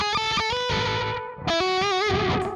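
Electric guitar with distortion played through a Boss DD-6 digital delay pedal: two loud sustained chords with repeating echoes trailing and wavering, filling the short stretch without talk.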